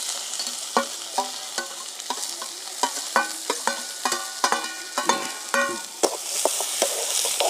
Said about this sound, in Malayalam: ഇനി നമ്മൾ കൊത്തി അരിഞ്ഞ് വെച്ച ഉള്ളിയും പച്ചമുളകും